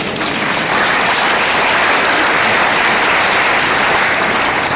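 Church congregation applauding during a Catholic service, a dense, loud wash of clapping that holds steady for several seconds without talk.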